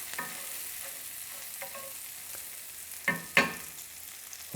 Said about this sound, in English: the garlic, we're just going to stir it for about 30 seconds